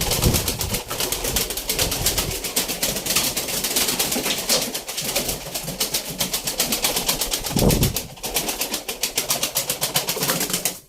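Pigeons cooing in a loft where flight-ready birds are kept, a dense continuous chorus of throaty coos close by, with rustling and wingbeats through it and a brief louder flutter near the end.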